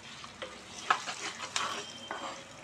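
A spoon stirs radish leaf bhujiya with red chilli powder in a hot pan, soft scraping strokes over a faint sizzle, close and fairly quiet, with no talking.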